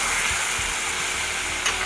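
Chopped onions sauté in a hot pan for Goan-style chicken kheema, giving a steady close sizzle with faint stirring scrapes and no voices.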